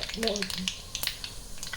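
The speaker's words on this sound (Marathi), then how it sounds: "मोहरी छान तडतडली आहे" Mustard seeds crackle in hot oil in a wok, giving scattered sharp pops over a steady sizzle, with a voice talking briefly near the start.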